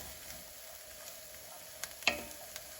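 Onions sizzle in a skillet on rising heat, a steady low frying hiss with a few brief clicks and a sharper tap as they are moved around, fairly quiet throughout.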